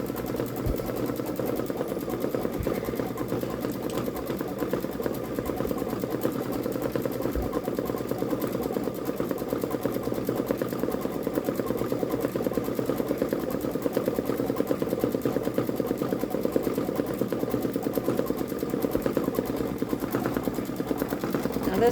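Babylock Solaris Vision embroidery machine stitching a peacock design, a steady rapid mechanical whirr and clatter running continuously at moderate volume close by, with no voices.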